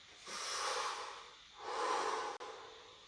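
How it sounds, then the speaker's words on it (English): Two long, slow, deep breaths taken close to the microphone, a breathy inhale-exhale rush, then a short pause and a quieter start of another breath. "take a breath"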